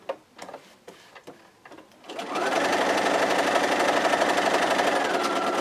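A few soft handling clicks give way to a sewing machine stitching raw-edge quilt squares, running in a fast, even, close-up whir until the end.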